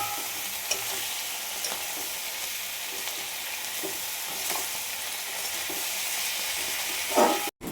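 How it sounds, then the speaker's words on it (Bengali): Taro flowers fry in hot oil as they are stirred, a continuous close sizzle with scraping strokes, ending in a brief clatter and sudden cutoff. "ফুলগুলোকে আমি ধুয়ে রেখেছিলাম, তো এবার ওটাই তেলের উপর দিয়ে দেবো।"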